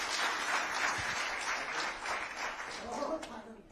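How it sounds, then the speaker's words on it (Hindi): Applause from a crowd at a political event in Chandigarh with the Chief Minister, a sustained wash of clapping at moderate distance that fades as a voice starts speaking near the end. "अरे जबरदस्त तालियां बजाओ"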